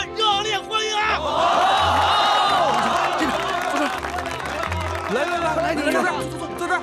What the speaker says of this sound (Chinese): 同志们，丁医生来了，咱们热烈欢迎啊！